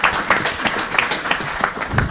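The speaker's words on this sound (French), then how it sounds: "On va vous applaudir une deuxième fois pour cette présentation" Conference audience applauding a digital health presentation, a moderate crowd clapping with individual hand claps standing out at an uneven rhythm through a steady patter.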